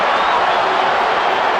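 At a Real Madrid versus Manchester United football match, a big stadium crowd roars and murmurs in a loud, dense, continuous wash of noise after a disallowed offside goal, a brief burst with no distinct voices.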